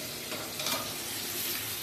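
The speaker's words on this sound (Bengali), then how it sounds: "ট্যাংরা মাছ তো ভীষণ ফাটে, যদিও ওর গায়ে তেল গুলিয়ে নিয়েছি" Tangra fish fry in oil in a wok with salt added, a dense continuous close sizzle and crackle that stays even and fairly quiet throughout, with no speech.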